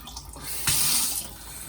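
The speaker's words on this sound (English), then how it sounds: "the water's coming through there" Water running and seeping through a Pluvial Plus water filter, a steady hissing trickle that swells briefly in the middle before settling back, close and alone.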